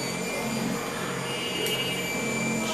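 A VelaShape V9 desktop body-contouring machine runs its vacuum suction handle, giving a steady mechanical hum and airy whoosh with a brief sharper hiss partway through.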